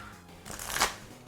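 A short riffle of Pokémon trading cards being shuffled from a Garchomp deck during a tabletop game, a quick soft crunching burst close to the microphone with no talking.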